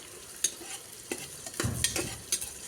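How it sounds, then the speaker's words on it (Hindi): Onions stirred and frying in oil give a faint bed of sizzle broken by repeated scraping clinks of a spoon against the pan, irregular and close, with no voices. "अब प्याज को तेल के साथ मिक्स करेंगे और अच्छी तरह से फ्राई करेंगे।"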